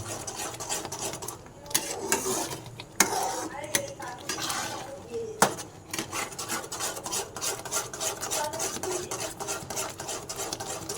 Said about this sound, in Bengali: এবার এই সুজিটাকে কন্টিনিউয়াসলি আমার নেড়ে যেতে হবে, আমার একটুও বসবে না